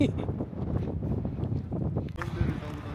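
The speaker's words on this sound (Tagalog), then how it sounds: "Kaso, ang lakas ng hangin" Strong wind buffets a handheld microphone at an overlook on the Grand Canyon rim, a steady broadband roar that runs throughout and swells near the end, with people talking over it.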